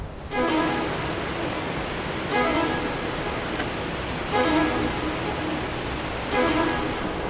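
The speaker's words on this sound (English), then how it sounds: "Really excited to get to this waterfall." Giant waterfall on the Kauai coast, a steady broadband roar of falling water that holds constant throughout, with slight surges in intensity and no voices.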